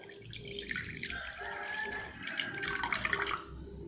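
Water is poured into salt for an electrolyte solution, making a close running, trickling splash with small drips that rises and falls over a few seconds.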